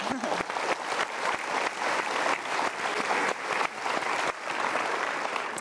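A studio audience at a motivational talk show gives continuous, even applause, many hands clapping together at moderate level throughout.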